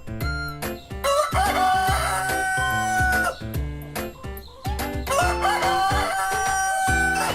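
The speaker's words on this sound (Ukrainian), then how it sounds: "півень кукурікає" A rooster crows loudly over an upbeat musical backing, with a few drawn-out cock-a-doodle-doo calls riding above the beat.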